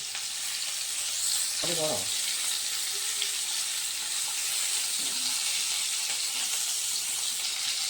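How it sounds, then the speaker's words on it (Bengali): Pointed gourd fries lightly in hot oil for a prawn dorma, a constant close crackling sizzle that runs throughout, with a brief voice heard partway through. "একটু হালকা করে ভেজে নেব"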